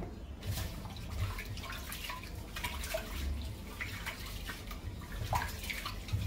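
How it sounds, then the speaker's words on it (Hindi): Rice being washed in salted water by hand sloshes and splashes continuously, with irregular small drips and swirls close up, with no talk over it. "नमक वाला पानी चावल धो रहे हैं,"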